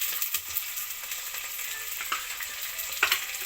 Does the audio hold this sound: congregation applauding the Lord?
no